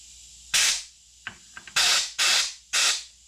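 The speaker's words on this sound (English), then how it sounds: "So I'm going to take my compressed air, I'm going to go to the gas inlet." Compressed air blasted into the gas inlet of a Model T Ford carburetor, heard as four loud, close hissing bursts, each under a second, with a few small metallic clicks between them.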